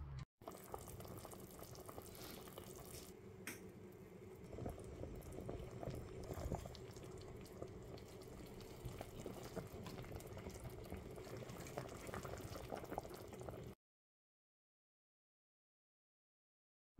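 Thai braised pork belly with boiled eggs simmering over low heat in a pot, giving a faint, continuous bubbling that runs steadily for about fourteen seconds and then stops, with no talking.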